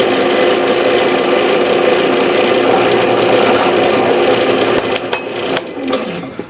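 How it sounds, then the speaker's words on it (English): A power drill boring small holes through the corners of a soft aluminum bar for a tripod microphone bracket, a steady close whirring grind that runs continuously before tapering off and stopping near the end. "we just drill a little hole through each corner. This is aluminum. It's soft, so it drills very easily."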